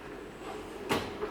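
A tool box drawer holding screwdrivers slides open with a single short scraping rattle near the end, close by, over a quiet room.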